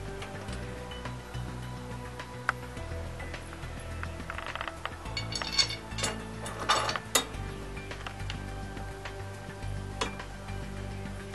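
Bolts being tightened on the mounting bracket of a cargo box for a Club Car Precedent golf cart, with scattered metallic clinks and ratchety clicks under a steady background hum.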